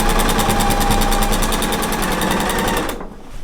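A regular home sewing machine quilting through a quilt sandwich, running loud and steady with a fast rhythmic needle chatter for about three seconds before stopping abruptly.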